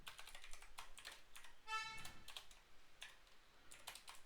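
Quiet typing on a computer keyboard, a rapid run of soft key clicks with a brief clatter partway through, close up and alone.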